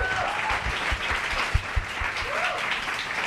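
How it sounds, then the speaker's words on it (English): Audience applause at a faith-in-action panel event, a steady wash of clapping at moderate level that holds for a few seconds with a couple of sharper claps standing out near the middle. "let's give them a round of applause"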